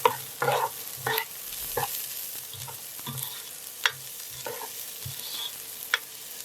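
Green chilli and onion stir-fried in a pan for egg noodles, soft sizzling under intermittent scraping and clanking of a spatula against the pan, fairly quiet with no talking.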